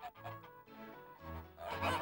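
Geese honk repeatedly in a noisy, overlapping chorus, close by, with the calls growing louder and denser toward the end.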